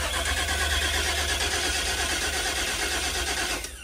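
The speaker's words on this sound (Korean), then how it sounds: "시동이 전혀 안 걸려요." Cranking engine of a 1995 Chevrolet van with a no-start fault: a loud, close, rhythmic starter churn that runs steadily without catching, then cuts off at the end.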